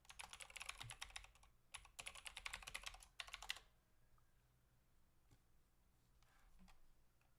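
Quick keystrokes on a computer keyboard in two dense bursts of clicky typing, then a pause with a few faint isolated taps, all close and fairly quiet.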